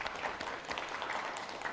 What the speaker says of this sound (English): I just want one last round of applause to them.